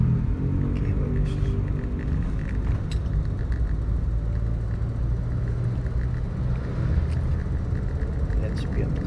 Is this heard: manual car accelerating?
yes